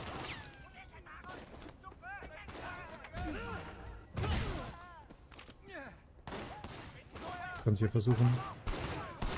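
Pistol gunfire in the game Sleeping Dogs cracks out in scattered bursts and single shots amid thuds and effects, with someone speaking briefly in German over the action.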